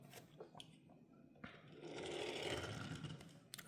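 A Hot Wheels Nissan Skyline 2000GT-R LBWK die-cast toy car rolling across a surface, a faint, rising whirring rumble of small plastic wheels with a few light taps and knocks close by.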